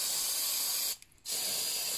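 Aerosol spray can hissing in a workshop during a timing belt change: a steady, close broadband hiss that briefly cuts out for a moment mid-way, then resumes.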